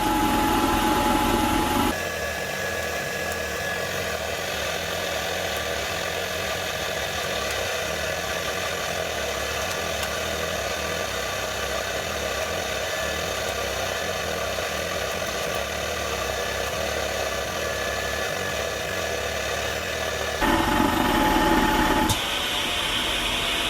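A Shark NV752 vacuum cleaner pulling a clog out of its hose, a loud continuous motor roar and rushing suction that holds steady for about twenty seconds, bracketed by brief louder bursts at the start and end.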